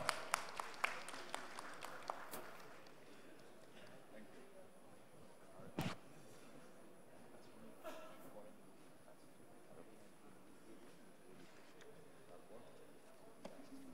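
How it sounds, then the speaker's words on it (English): An award ceremony audience claps briefly: a quick run of fairly faint, distinct claps that fades within about two seconds, followed by quiet room sound and some speech. "Let's give a big applaud."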